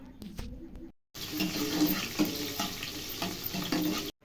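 Green and dry chillies fry in oil, giving a steady, close hiss that runs about three seconds after a brief silence, with some fainter kitchen noises just before.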